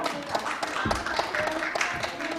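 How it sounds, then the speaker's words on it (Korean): Guests at a Korean traditional wedding clap for the couple, brisk scattered hand claps blending into applause, mixed with voices in the background. "뜨거운 박수 부탁드리겠습니다."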